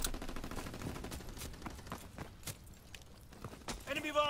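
Light machine gun fire in the World War II shooter Call of Duty WWII, quick rattling bursts at moderate distance amid other battle noise, with a voice speaking over it.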